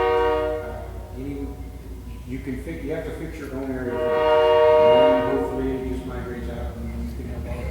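A passing train sounds its horn at a town planning board meeting, the long sustained blasts swelling loudest in the middle, heard under steady continuous talk by a speaker at the microphone.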